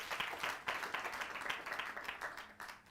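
An audience claps steadily through a talk-show segment, many hands pattering together at a fairly even level without a break.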